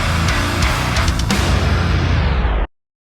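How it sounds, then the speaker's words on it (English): Steady broadband ventilation noise in a recording studio, loud and constant, cutting off abruptly near the end. "that wonderful noise you hear is the ventilation"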